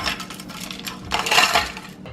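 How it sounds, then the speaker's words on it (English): Ice cubes drop into a glass for a martini, giving a few bright clinks and rattles, with a louder clatter near the middle, close and fairly quiet, with no talk. "So first we're going to put some ice in our glass."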